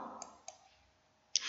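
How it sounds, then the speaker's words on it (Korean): Computer mouse buttons click in a quiet room: a couple of soft, light clicks followed by one sharper, louder click, each short and isolated against faint background hiss. "마우스 오른쪽 버튼 클릭"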